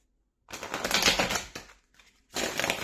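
A tarot card deck shuffled on a cloth, two bursts of quick riffling rustle and clicking with a short pause between, close and fairly loud, no talking.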